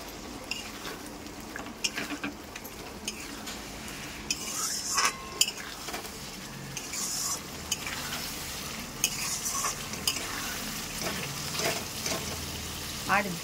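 Potatoes fry in hot oil in a masala being cooked for a mutton keema dish, a steady sizzle broken by repeated clanks and scrapes of a spatula against the pan, close and busy throughout.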